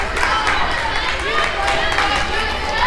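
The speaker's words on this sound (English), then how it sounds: "The crowd here at Trinity Baptist Gymnasium is loud" Loud crowd noise fills a basketball gymnasium at Trinity Baptist Gymnasium during a women's college South Region final game, a steady roar of chatter and cheering with scattered clapping throughout.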